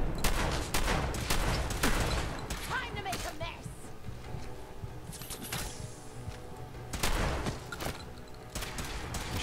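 Rapid bursts of gunfire in the video game Fallout 4 crackle in quick volleys, with a person talking over the shooting.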